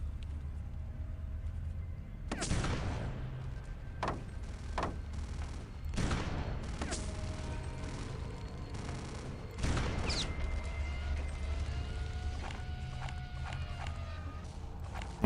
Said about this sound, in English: There's a lot of rockets.